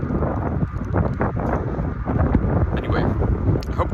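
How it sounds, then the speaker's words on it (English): Wind blows steadily across an outdoor microphone, a continuous broadband rush with gusty swells that holds at a fairly loud level throughout. "I hope the wind is not too loud."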